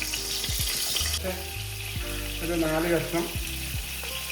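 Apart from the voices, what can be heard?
tomatoes frying in hot olive oil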